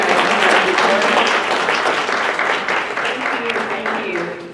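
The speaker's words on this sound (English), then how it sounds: "Can you guys give her a round of applause?" An audience at a women's leadership conference applauds a speaker, loud, close clapping from many hands that gradually fades, with a voice speaking over it.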